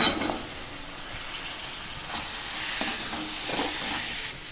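Chicken feet hit hot oil with cooked-down spices and bay leaf, starting with a sharp burst and settling into a steady, fairly soft sizzle and hiss.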